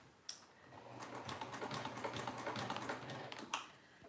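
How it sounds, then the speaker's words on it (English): A domestic sewing machine runs at a slow, steady pace, stitching fabric with a soft, continuous mechanical whir and rattle close by, with a few sharper clicks at the start and end. "I am kind of going slow just because I don't want it to wrinkle or pull weird on this part."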